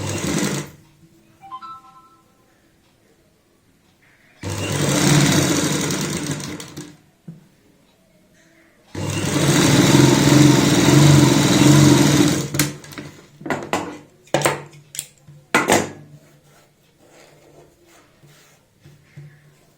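A sewing machine stitches a kurti neckline in loud, close runs of rapid whirring, separated by pauses and ending in short stop-start bursts.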